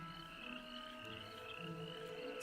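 A three-spotted toad croaking in a continuous low chorus, faint and steady throughout with no voices.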